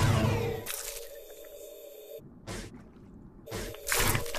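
Water forced out of an archerfish's mouth in short wet bursts and squishy spurts, separated by pauses, fairly close and with no voices.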